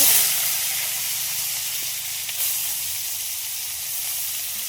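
Salted potatoes frying in oil left from frying fish, a loud steady sizzling hiss close to the pan that stays even throughout with no talk.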